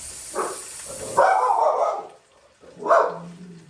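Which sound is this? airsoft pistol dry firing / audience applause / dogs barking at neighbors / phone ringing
dogs barking at neighbors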